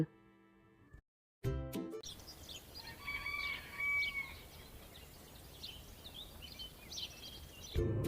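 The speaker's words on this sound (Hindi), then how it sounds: "ये है गिनी मुर्गी, जिसे हम इंग्लिश में बोलते हैं गिनी फाउल।" Guinea fowl give thin, faint calls at a distance over a soft outdoor background, repeating over several seconds after a short burst of other sound at the start.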